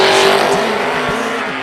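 A drag racing car launches off the line at an IHRA World Finals event with a loud, steady engine roar, harsh and close throughout the short burst.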